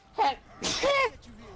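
A single sharp sneeze bursts out close to the microphone, followed by a short breathy vocal sound, heard during a loud online game session.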